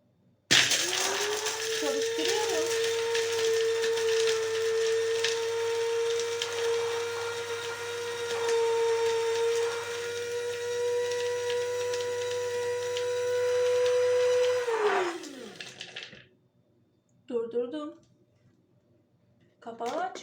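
A Kiwi Premium coffee and spice grinder runs steadily on hard hazelnuts, a loud continuous high whine with gritty rattling that holds for about fifteen seconds, then winds down, followed by a couple of short bursts and clatter.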